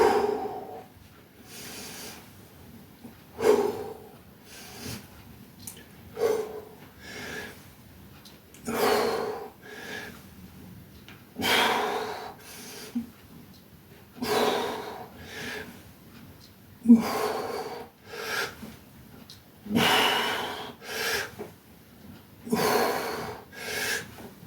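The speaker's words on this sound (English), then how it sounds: "Probably got all the breathing wrong there, by the way." Heavy, rhythmic breathing during a home workout set, with forceful snorting exhales and gasping inhales repeating every second or two, close and fairly loud, with no talk over it.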